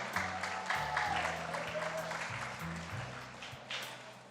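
Audience applause at the University of Houston's White Cane Safety event, a steady wash of clapping that runs throughout under a low sustained hum, moderately loud and slightly distant.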